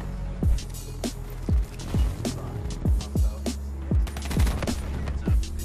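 Rapid gunfire in the shooter Black Ops 3, a loud sequence of sharp automatic bursts repeating about every half second, with faint background game noise between shots.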